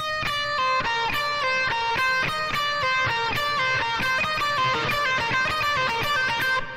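Guitar blues lick played over and over in a steady loop, a fast stream of bright picked notes, loud and close with no talking.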